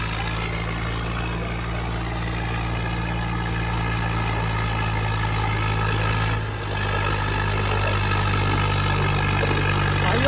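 A Swaraj 744 FE tractor on 14 and 28 inch tyres works hard under load, its engine giving a loud, steady low drone that continues unbroken apart from a brief dip partway through.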